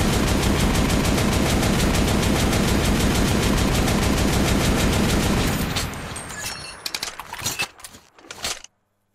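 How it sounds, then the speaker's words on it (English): An LMG-style shotgun in a Metro game fires in a relentless rapid automatic stream, loud and close for several seconds, then stops, leaving scattered mechanical clicks and rattles. "this LMG shotgun is amazingly overpowered"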